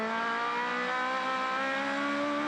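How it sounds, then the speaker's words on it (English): Aussie Racing Cars powered by 1200cc motorcycle engines scream at high revs on the main straight at Sydney Motorsport Park, a loud, sustained whining engine note rising steadily in pitch with no talk. "These 1200cc motorcycle engines been absolutely tested their limits on the main straight here."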